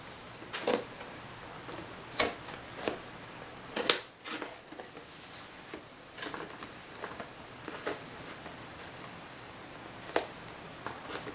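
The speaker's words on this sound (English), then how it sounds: "This is very cheap scissors." Cheap scissors snip through packaging on a boxed PSP game bundle in sharp, irregular clicks and cuts, close and fairly quiet, with faint rustling between.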